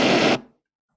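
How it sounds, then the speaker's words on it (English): Vocoded tone simulating cochlear implant hearing: a harsh, buzzy, noise-like burst with no clear pitch, loud for about a third of a second, then cut off abruptly into silence. "the first one here is the vocoded version of it, and so I'll play that quickly"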